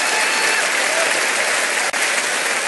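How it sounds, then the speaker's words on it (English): An awards-ceremony audience at the 2015 BBC Folk Awards applauds and cheers loudly and continuously, with one brief dip in the noise. "That's the biggest cheer of the night."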